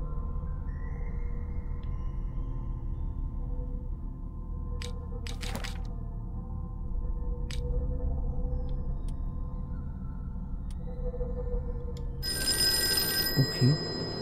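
A telephone rings in the Call of Cthulhu video game, its bright, insistent trill breaking in near the end over a low, steady ambient drone.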